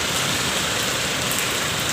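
Heavy monsoon rain pours down in Mumbai, a dense, loud and unbroken hiss with no voices.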